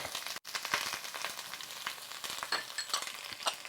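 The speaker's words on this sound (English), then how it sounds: "we're just going to cook those just for a second or two in the oil" Garlic and ginger hit hot oil in a wok with a loud continuous sizzle and crackle, broken by brief stirring scrapes, no voices.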